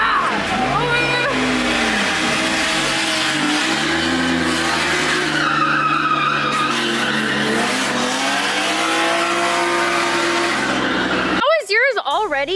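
A Nissan S15 with a DCT transmission accelerates hard, its engine note climbing and dropping through quick gear shifts with tire squeal, loud and close, while people talk and exclaim over it.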